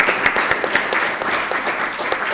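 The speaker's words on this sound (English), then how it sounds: "So applause." A conference audience at a Pax Christi International event on faith and just peace claps steadily, a dense, even patter of many hands filling the room without voices.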